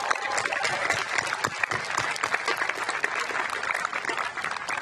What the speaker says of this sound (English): Seniors, let's give a cheer for your family who have been on this strange trip with you.